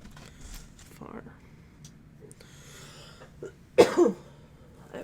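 A short burst of coughing, loud and close, breaks in near the end after quiet murmuring and soft rustling.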